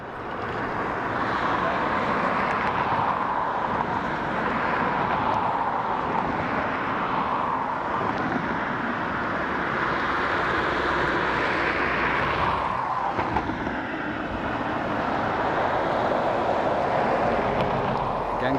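A Boeing 787 Dreamliner touches down a long way down the runway at Dublin Airport, a broad, steady roar of jet engines and rushing air that holds for the whole stretch and swells slightly midway.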